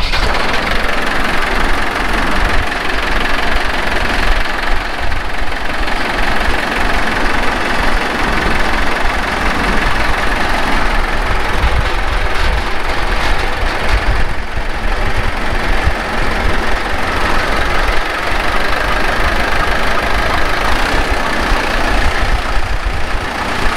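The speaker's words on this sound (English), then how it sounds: "That motor is a hunk of junk, and it just needs to get replaced." A worn-out farm motor powers a seed drill planting forage rye as a hay cover crop, roaring loudly and steadily at close range with a rough, knocking vibration the whole time.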